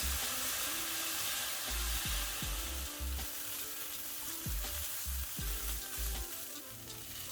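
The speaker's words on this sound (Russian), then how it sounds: "К уже обжаренным кусочкам выливаем столовую ложку соевого соуса." Pieces of meat sizzle steadily in a hot pan with soy sauce, a constant frying hiss broken by a few bumps of stirring or scraping.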